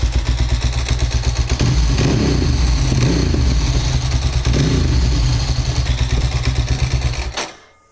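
A rebuilt, fully overhauled motorcycle engine idles hot, close and loud, with a steady, rapid throbbing pulse, then cuts off and falls silent just before the end.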